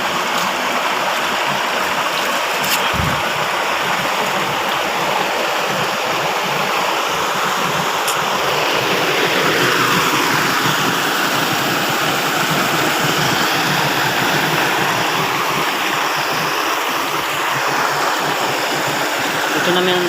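An artificial waterfall pours steadily for twenty seconds, a dense, loud broadband rush of falling water with no break.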